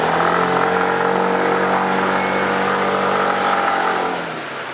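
Yamaha JOG125 scooter engine running at steady speed during a test ride, a loud continuous buzzing drone with a slightly rough texture that eases off toward the end.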